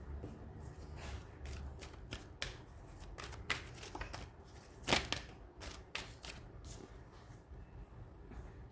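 Psychic reading cards being shuffled by hand, a faint series of quick papery riffles and taps in irregular bursts, close and quiet with no talk.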